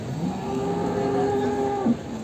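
A buffalo at a buffalo market gives a long, low moo that holds steady for about two seconds before breaking off, close and loud.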